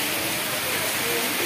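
Heavy rain with strong wind at a school pours down in a loud, continuous broadband hiss, dense and steady without pause.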